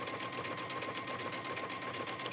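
A sewing machine with a standard presser foot runs smoothly while stitching a garment hem, a continuous rapid, even whirring throughout, fairly quiet and close.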